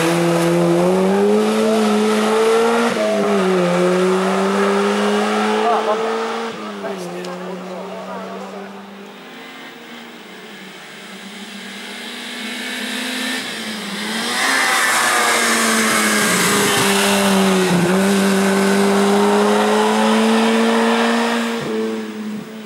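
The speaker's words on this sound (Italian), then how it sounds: "Arriva la macchina" A race car at the Coppa Sila 2021 hill climb revs and changes pitch as it draws near, its loud engine drone rising and falling, with people talking over it.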